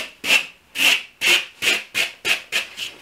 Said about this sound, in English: So I just take it and I just wipe up the ends a little bit